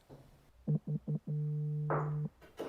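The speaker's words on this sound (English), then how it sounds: "your phone buzzes" A phone buzzes with a notification: three short vibration pulses, then one long sustained buzz, close by and clear with no talking.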